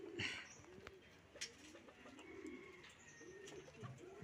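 Pigeons coo softly in low, rounded phrases, several calls repeating at a relaxed pace with faint chirps in the background.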